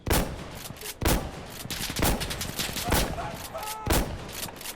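Gunfire in the shooter game Insurgency Sandstorm, including a shotgun, booms in loud sharp shots roughly once a second with dense rattling fire in between, close and prominent.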